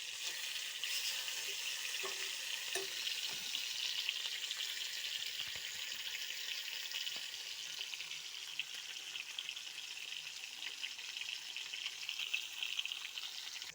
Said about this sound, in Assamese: এয়া এতিয়া মাছখিনি পূৰা ফ্ৰাই হৈ গ'ল